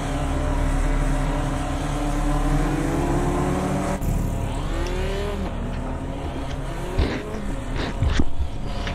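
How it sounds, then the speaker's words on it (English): Race car engine idling and revving in Automobilista 2 during career mode, a steady loud drone with rising rev sweeps and sharper bursts near the end. "Oh, I love when you turn the car on."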